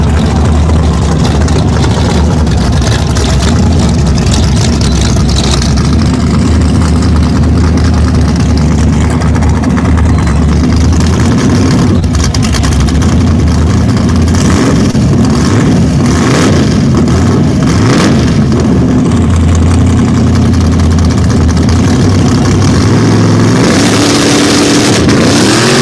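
Big mud bog trucks at a start line, engines idling with a heavy low rumble and repeated loud revving bursts, continuous and close for the whole stretch.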